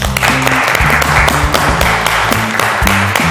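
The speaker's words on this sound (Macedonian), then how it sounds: "Аплауз ве молам." Studio audience applause on a Macedonian cooking reality show, loud continuous clapping, with rhythmic music pulses running beneath it.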